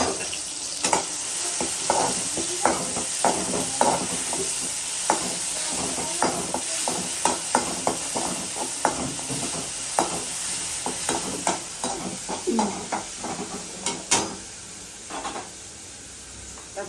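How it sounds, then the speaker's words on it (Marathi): Green chillies and garlic sizzle steadily in hot oil in a pan while making a radish bhaji, with close, repeated scraping and stirring clicks of a spoon throughout. "आता लगेच टाकते मी आपण हिरवी मिरची लसूण एवढं घेतलं"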